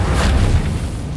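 A Confringo fire spell goes off in Hogwarts Legacy as a single loud, deep boom with a brief bright burst, decaying quickly into a low rumble.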